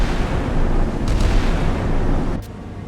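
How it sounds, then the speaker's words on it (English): Naval guns firing in the video game Task Force 77.3 during a fleet defence of Okinawa, a loud, continuous rumbling barrage of booms that cuts off abruptly near the end. "Guns opening up."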